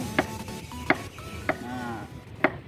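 Brown palm sugar being chopped into small pieces for organic fertilizer, four sharp knife strikes spaced roughly half a second apart, close and clear against a faint steady background hum.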